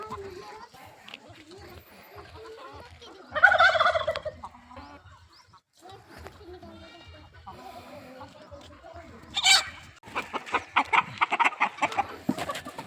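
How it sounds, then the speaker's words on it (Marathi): Free-range desi young hens cluck and squawk in bursts, with a sharp outburst midway and busy flapping and calls toward the end, people talking softly in the background. "पूर्ण प्युरिटीमध्ये गावरान पक्षी गणेश सरांनी पार्सल केले होते एकदम ॲक्टिव्ह पक्षी बघू शकता तुम्ही"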